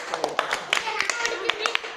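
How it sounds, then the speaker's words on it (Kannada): Hand clapping at close range: a brisk series of sharp, fairly evenly spaced claps under a voice that talks over them. "ಸೂಪರ್ ಚಪ್ಪಾಳೆ ಹೊಡಿತೀನಿ ನಾನು"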